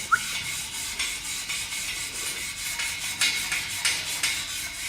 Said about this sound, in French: Je vais brosser pour enlever vraiment les impuretés. Donc je brosse ma pièce.